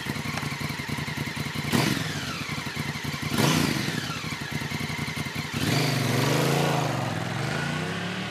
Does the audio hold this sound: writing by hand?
no